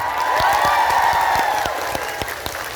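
Audience applause at an Islamic religious gathering in Taiwan, dense crowd clapping under a raised, drawn-out voice over loudspeakers, with individual claps standing out.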